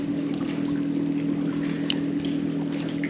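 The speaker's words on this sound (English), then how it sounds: "Here comes a boat." A boat passes on the water near a rocky shoreline under a bridge, its motor a steady low drone that holds evenly throughout, fairly distant and unbroken.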